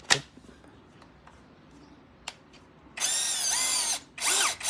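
Tanzu cordless electric drill, its battery just inserted, gives a few faint clicks and then spins up in two loud whirring bursts, the second rising and falling in pitch.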